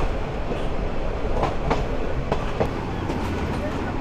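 A Chattogram University shuttle train rolls toward a station while slowing, giving a steady rumble with scattered clicks and rattles of the wheels on the rails, heard from inside the carriage.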